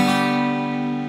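A simplified guitar chord is strummed once and rings loud and full, sustaining evenly and fading slightly over about a second, with nothing else heard.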